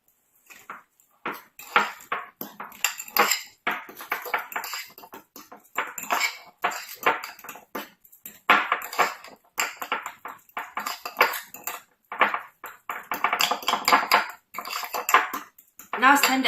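Garlic powder being stirred into guacamole in a bowl with a utensil, a run of quick clinking, tapping scrapes against the bowl, close and busy, with no talk.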